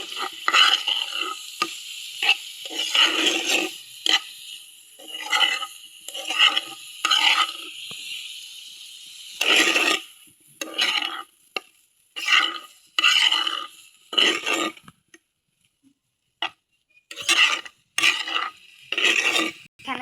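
Pointed gourd being stirred and mixed in a pan, with bursts of scraping and clattering from a spoon against the metal, separated by brief pauses, close and fairly loud.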